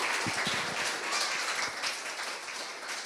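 A church congregation at Assembly Church applauds and cheers to welcome Pastor Barry Saar, a steady wash of crowd clapping with a few sharper individual claps near the start.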